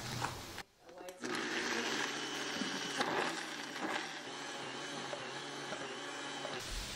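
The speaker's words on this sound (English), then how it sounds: "I'm gonna chop and then I'm gonna stick them in my mom's Vitamix" A Vitamix blender grinds chopped bread slices into breadcrumbs. The loud, steady motor roar comes in after a short pause and runs on with rough, crunching texture for several seconds.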